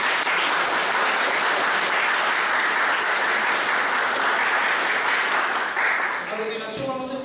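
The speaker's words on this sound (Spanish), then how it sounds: "les pido en estos momentos un aplauso para ustedes que son cómplices de esta transformación desde ya." A university conference audience bursts into thick, continuous applause that holds at full strength, then thins slightly as a voice begins speaking near the close.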